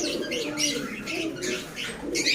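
Pigeons coo repeatedly at close range in a rhythmic, overlapping series, with no talk over them.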